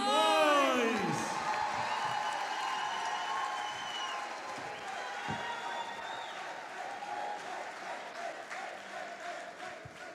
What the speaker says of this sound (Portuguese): Recebam com muito carinho e aplausos o nosso Pastor Felipe Simões.